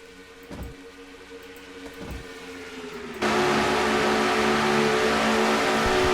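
Engine of the number 3 GM Chevrolet race car in a racing video game at Atlanta, a humming drone that jumps abruptly to a loud, sustained roar midway through, with no talk.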